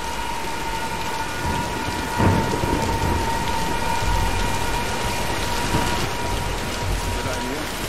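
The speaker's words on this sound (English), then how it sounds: "Nah, let's wait out the storm." A thunderstorm in the video game Tomb Raider brings steady heavy rain hissing on surfaces, with a low rumble of thunder rolling beneath it throughout.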